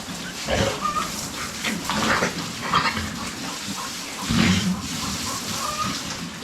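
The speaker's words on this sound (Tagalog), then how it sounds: "halos namamaras po ang ating mga baboy dito" Pigs grunt and snort in a farm pen, a steady cluster of low, rough grunts with occasional louder bursts over continuous background noise and faint splashing, with no talking.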